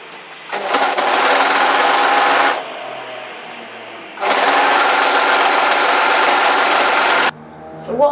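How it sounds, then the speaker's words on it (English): Overlocker sewing machine stitching knit sweater fabric runs in two loud, fast whirring bursts separated by a pause, close up. "So I'm going to start overlocking from that fold."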